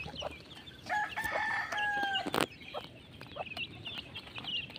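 Chickens cluck around feeding time while a rooster crows loudly nearby, one long drawn-out call in the middle, followed by scattered clucks and chick peeps against a steady farmyard background.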